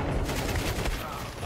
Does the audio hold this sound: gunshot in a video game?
yes